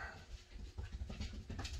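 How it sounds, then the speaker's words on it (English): A puppy pants rapidly in a garage, quick rhythmic breaths close by, with faint scuffling of movement around it. "My little puppy is just running back and forth in the garage right now nonstop."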